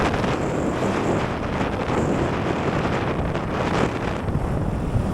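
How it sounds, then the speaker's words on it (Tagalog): Strong wind roars constantly across the microphone, a loud, rough rushing noise with gusty buffeting throughout and no other clear sounds. "Tsaka malakas yung hangin"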